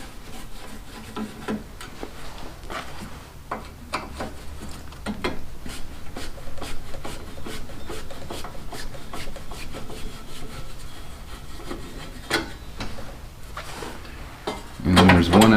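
A Phillips screwdriver grinds and scrapes against screws on a snow blower carburetor, with rough, irregular rubbing and small metallic clicks up close and a louder burst of handling near the end.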